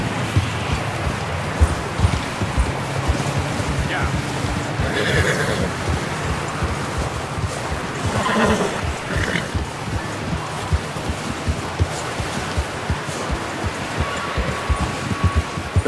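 Horses in the video game Red Dead Redemption 2 whinny and snort over a constant bed of ambient noise and water, with a loud neigh near the start and faint hoof movement throughout.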